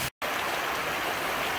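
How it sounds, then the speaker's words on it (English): A small wild stream in a hidden valley rushes steadily over rocks, a close, continuous broadband wash. A brief dropout of total silence breaks it near the start. "Sometimes you come across streams like this"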